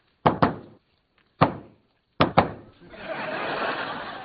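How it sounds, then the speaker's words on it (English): A patterned knock lands on a door: two quick raps, a pause, one rap, another pause, then two more, each crisp and close, before talking and laughter rise at the end. "This is the secret knock."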